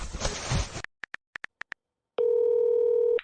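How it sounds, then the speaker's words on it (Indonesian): Phone call tones while dialing a number: a brief burst of noise, then a quick series of short dial beeps in uneven groups, a pause, and a long steady ringing tone. "Hubungi Rian itu sekarang."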